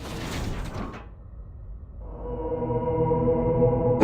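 Heavy Sith tomb door in Knights of the Old Republic 2 grinding open, a broadband mechanical rush that dies down, then a steady rising machine hum with layered tones building loud to the end.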